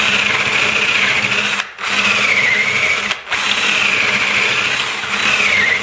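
Power drill with a 1/2-inch bit running steadily while elongating a hole in wood for a woodworking vise: a loud, close, continuous whine, briefly dropping out twice as the drill stops and restarts.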